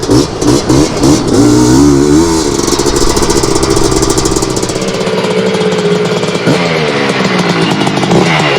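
A 250R engine runs loud and close at steady revs, with rising and falling throttle blips and a buzzy two-stroke rasp throughout during a gearing and jetting test, with no voices.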